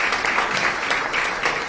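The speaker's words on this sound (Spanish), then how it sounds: "Te digo un aplauso para Maciel." Brief, steady audience applause fills the room at an in-person training session for wholesalers in Tuxtla Gutiérrez, a dense patter of clapping with no break.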